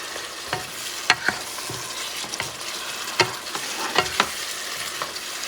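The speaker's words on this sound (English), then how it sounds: "And I'm going to add the carrots." Carrots tumble into a pot of bison stew with soft clatters and scattered thumps over a faint simmering sizzle, each drop close and brief.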